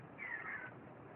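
Cats meow faintly in a cartoon soundtrack from An American Tail, a thin drawn-out cry over a steady muffled background.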